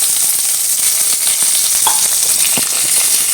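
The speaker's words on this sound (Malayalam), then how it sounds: "കുറച്ച് കടുക് അതൊന്ന് പൊട്ടിക്കട്ടെ" Mustard seeds and cumin sizzle in hot coconut oil, a steady, dense frying hiss with scattered small pops as the seeds crackle, close and continuous throughout with no voices.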